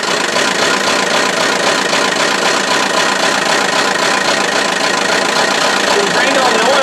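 Buick Verano engine running with all its oil drained, heard close at the tailpipe: a loud, unbroken, rough knocking roar that sounds like a big cam as the engine slowly dies.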